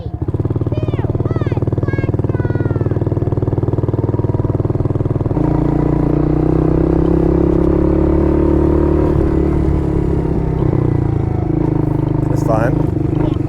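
Small Kayo Bull 125 EFI kids' ATV engine idling, then revving and pulling away after about five seconds, a steady close motor drone throughout with talking over it.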